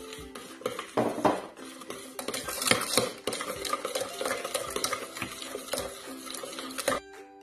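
A spoon stirs apple cake batter of flour, baking powder and vanilla sugar in a bowl, with a steady scraping and clinking against the bowl's sides, close and continuous, with no talk.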